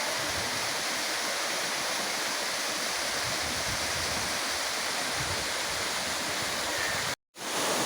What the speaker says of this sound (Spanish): aquí nos encontramos en la segunda cascada, la más alta en el Parque Zoológico Chorros de Milla